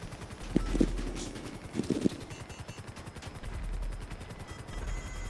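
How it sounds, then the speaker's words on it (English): A few sharp, distant gunshots crack out in the video game GTA V, scattered singly and in quick pairs over a steady, throbbing mechanical drone that continues throughout. "Okay, they're shooting."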